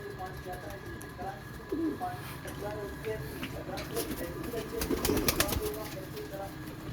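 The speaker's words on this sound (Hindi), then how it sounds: "ये दोस्त की फरमाइश पे कबूतर दिखा रहा हूँ।" Breeder pigeons coo softly in low, throaty bursts, close by, with someone talking over them and some rustling and fluttering in the background.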